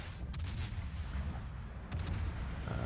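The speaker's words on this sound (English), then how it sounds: "Fire the last of my AP at him because I realized there's too much bouncing" Warship guns fire armour-piercing shells in a World of Warships naval battle, giving booming blasts over a low rumbling battle bed: a cluster of shots near the start and another volley about two seconds later, with no voices.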